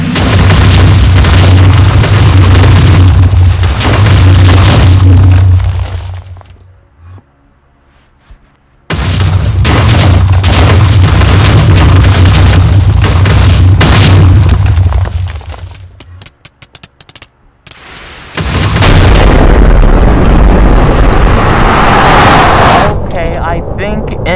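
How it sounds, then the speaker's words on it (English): Meteors crash and explode in the game Minecraft: loud, heavy booming blasts with crackling debris, repeated in long rumbling waves separated by brief quiet gaps. "Now he's spawning in fireballs. I mean, he's spawning in meteors."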